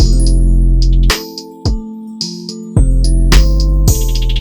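808 bass notes with small pitch slides drive a beat, loud and sustained low tones cutting in and out in a rhythmic pattern alongside hi-hats and higher synth hits, with no voices.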